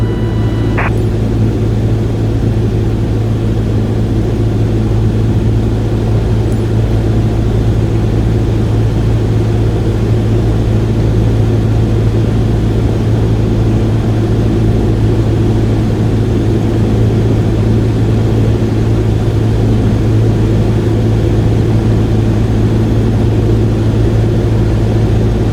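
Steady low engine drone of a light aircraft idling on final approach with 10 degrees of flaps at 65 knots in Microsoft Flight Simulator 2020, continuous and even throughout with one brief click near the start.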